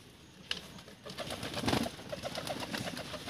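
High flyer pigeons coo softly nearby, a series of low repeated murmuring calls over quiet background rustle.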